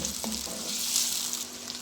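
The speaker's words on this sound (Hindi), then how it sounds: "प्याज को हम सौते कर लेंगे।" Onions sautéing in a pan give a steady, close sizzle and hiss of frying, with a faint scrape of stirring near the start and no voices.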